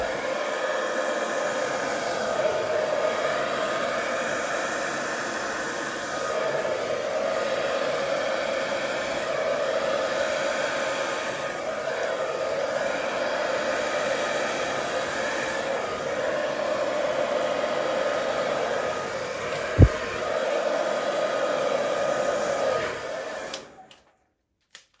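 A hair dryer blows steadily close by over wet acrylic paint in a Dutch pour, a constant loud whooshing drone for about twenty-three seconds, with one sharp knock near the end before it cuts off.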